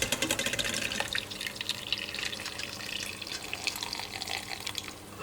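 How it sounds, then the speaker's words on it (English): Vegetable stock draining from a pot of cooked potatoes into a sink, a steady close splashing, trickling pour of liquid running without a break and easing slightly toward the end. "So we drain it nicely."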